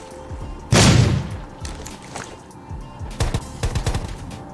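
Gunfire in a multiplayer shooting video game: a loud blast comes first, then rapid bursts of automatic fire crackle in quick volleys, close and punchy, with no talking.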